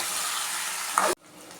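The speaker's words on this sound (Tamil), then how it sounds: "ஒரு நாலு கத்திரிக்காய் கட் பண்ணி வச்சுட்டு அதையும் போட்டு வதக்கிக்கலாம்" Tomato and eggplant sauté in a pan for a dried-fish curry, giving a brief, even hiss of frying that swells slightly and then stops abruptly, leaving a faint quiet background.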